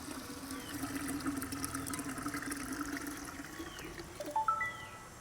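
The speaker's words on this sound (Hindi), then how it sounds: "अब इसमें पानी डालते हैं।" Water pours steadily into a large cooking pot for beef haleem, a continuous trickling fill heard close up in a home kitchen, with a few brief clinks near the end.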